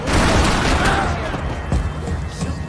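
Gunfire in the video game Max Payne 3 forms a dense, continuous roar of overlapping shots and booms, loud and close throughout with a few sharper cracks poking through the wash.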